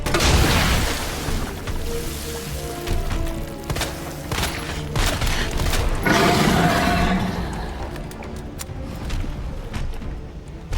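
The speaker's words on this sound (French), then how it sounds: "Le lance-grenade fait pas beaucoup d'effet sur lui." Grenade launcher fire in an action video game: heavy booms and thuds spread over several seconds among clattering mechanical game sounds, loud and close, fading toward the end.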